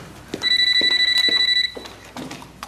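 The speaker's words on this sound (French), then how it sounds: "Téléphone." A telephone rings in a home with a rapid electronic trill lasting just over a second, loud and close, surrounded by soft knocks and movement noises.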